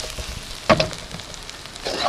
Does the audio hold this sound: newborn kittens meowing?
no